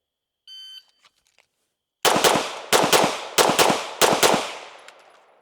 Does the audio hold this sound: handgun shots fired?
yes